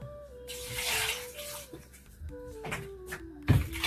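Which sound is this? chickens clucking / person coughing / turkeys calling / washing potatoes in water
washing potatoes in water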